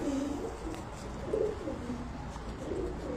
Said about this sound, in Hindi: ये 18-19 साल पुराना कबूतर है।